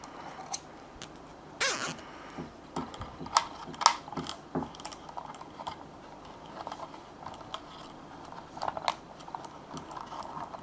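A plastic cable tie is zipped tight around excess wire on a cheap DSO150 oscilloscope being made portable, giving soft irregular ratcheting clicks and small handling taps up close.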